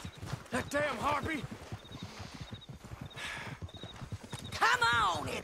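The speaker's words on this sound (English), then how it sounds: "That damn horse!" In the video game Red Dead Redemption 2, horse hooves clip-clop in a steady rhythm while a horse whinnies and people talk over the top.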